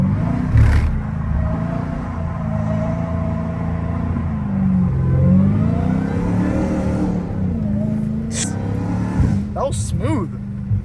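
Dodge Challenger Hellcat Redeye engine drifting on a wet private lot in the rain, a loud steady rumble that swells with revs, with a few sharp bursts and a voice speaking over it.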